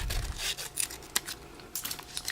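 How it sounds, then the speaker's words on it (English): Scissors cut out a paper shape in short, irregular snips with faint crinkling of the sheet between cuts, close and quiet. "I'm going to get my scissors. And I'm going to cut it out."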